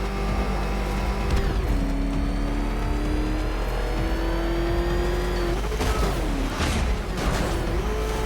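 The Batmobile from Batman Arkham Knight racing with its engine revving, a loud sustained motor whose pitch climbs and dips through gear changes, with brief tire squeals near the end.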